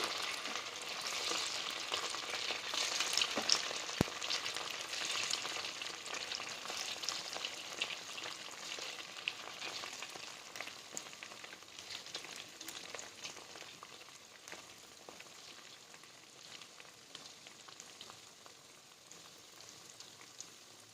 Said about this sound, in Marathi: चला आता यामध्ये भजी टाकून घेऊयात कमी गॅसवरती आपल्याला भजी सोडायची आहेत यामध्ये